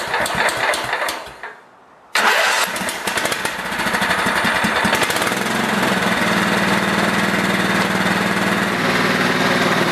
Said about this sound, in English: I'm just going to start up the tractor the way it is